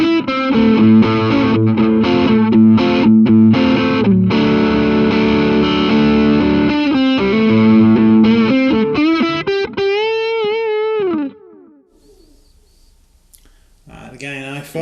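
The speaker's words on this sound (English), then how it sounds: "going from the Catalyst to the full-tone OCD, it's just, I've got set to just a little bit more gain, a little bit more meat to it" Electric guitar driven through a Fulltone OCD overdrive pedal with a little extra gain, chugging out a classic rock rhythm of loud, sustained distorted chords before ringing out and fading to near silence.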